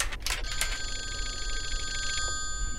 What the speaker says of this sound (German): Oh, das Telefon.